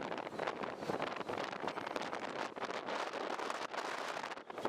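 Strong wind buffets the microphone outdoors at the Empire State Building in New York, a steady, loud roaring rumble with gusty swells and no voices.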